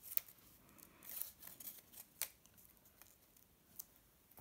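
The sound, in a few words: scissors cutting paper at an angle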